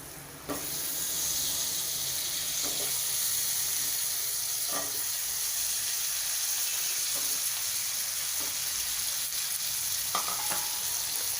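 Eggplant and potato pieces sauté in a hot pan for a Maharashtrian wedding-style eggplant-potato curry, giving a steady, close sizzle and hiss throughout, with occasional soft stirring scrapes.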